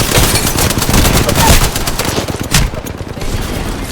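Rapid automatic gunfire from an Apex Legends arena match rattles in dense, continuous bursts for about four seconds, loud and close, with a sharp louder crack near the end.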